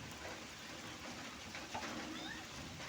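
Heavy rain falls during a Kalbaishakhi thunderstorm, a dense, even hiss of drops on surfaces heard from indoors. Faint and steady, with a few scattered bird calls in the background.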